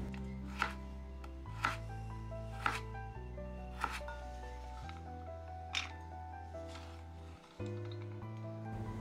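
A knife slices carrot into matchsticks while a Maggi goreng is prepared, giving about seven sharp, evenly spaced cuts on a board beneath steady background music.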